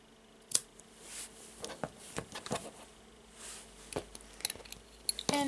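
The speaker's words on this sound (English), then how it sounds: "And now I will take the scissors and cut those cords." Scissors snipping the cords of a friendship bracelet, with a few quiet, separate snips and small handling clicks spread across a hushed, still room.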